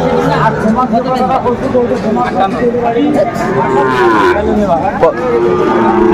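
Cattle, including Shahiwal bulls, moo repeatedly at a busy Faridpur cattle market, with loud, close calls rising over constant crowd chatter and people talking throughout.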